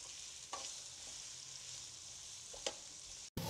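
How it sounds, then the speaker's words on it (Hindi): Carrots fry in a pan with a soft, steady sizzle, broken by a couple of brief stirring scrapes and a sudden short cut near the end. "सबसे पहले गाजर डालेंगे। अब इसको हम इसको अच्छी तरह भून लेंगे, इसमें 5 मिनट तक फ्राई करेंगे"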